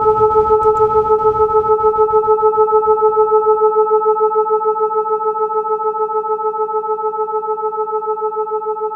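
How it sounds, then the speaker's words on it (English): A steady, pure 440 Hz electronic test tone holds at constant pitch and loudness, with a faint low rumble fading out early on. "what you're hearing is the tone that's being generated"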